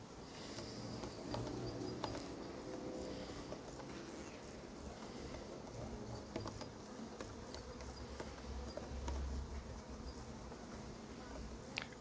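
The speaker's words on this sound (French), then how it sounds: "Purée, toutes ces abeilles." Honeybees hum steadily around a small, busy apiary hive, a continuous close-up drone with occasional louder passes of individual insects and no talk.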